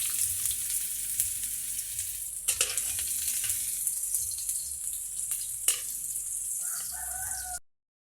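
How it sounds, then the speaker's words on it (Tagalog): Onions frying in hot cooking oil, a steady close sizzle with a few stirring knocks, cut off abruptly at the end. "Lagyan na natin ng mantika, guys. Magisa ta sa lamas. Ilunod natin ng sibuyas."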